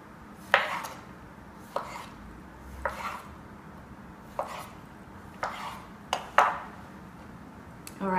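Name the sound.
knife quartering vegetables for raw vegan marinara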